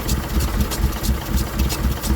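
Engine idling with a weak ignition lead being pulled and refitted, a close, loud, rumbling run with a rhythmic, slightly uneven pulse and no talking.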